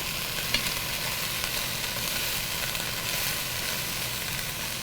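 Onions and carrots sizzle steadily in a pot where beef was browned before, with a constant dense hiss and an occasional stir, close and without any talk.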